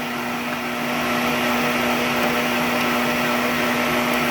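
An electric mixer whips aquafaba with vanilla extract, a loud, steady motor whine and drone that holds constant throughout with no speech.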